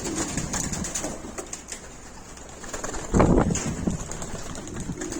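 Pigeons coo close by, with soft repeated calls over a steady bed of bird noise and a brief flutter of wings partway through.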